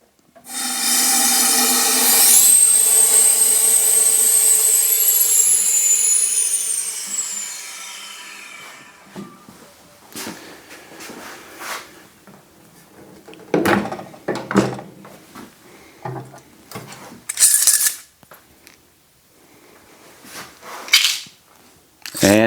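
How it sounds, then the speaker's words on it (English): Opening the drain valve on a Cube jar vacuum sealer lets out a loud, steady rush of hissing air with a falling whistle for several seconds. Quieter clicks and knocks from handling follow. "And now we'll open the drain valve."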